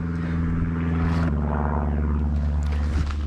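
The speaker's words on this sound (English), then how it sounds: "This time it's a plane." A low, steady droning hum of a propeller airplane passes overhead, fairly faint and continuous, shifting slightly in pitch as it moves.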